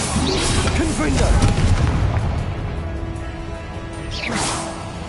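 Confringo fire spells cast in Hogwarts Legacy, several booming blasts with whooshes, loud and close, under a spoken spell incantation.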